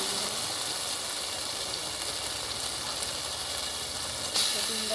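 An egg added to a hot pan of onions sizzles with a constant bright hiss, fairly loud and unbroken, with a voice talking over it.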